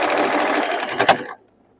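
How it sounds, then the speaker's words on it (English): A sewing machine runs a quarter-inch seam through a quilt block, a fast, even mechanical whir close up, a brief louder clack near the end, then it stops into silence. "And you sew right down through here."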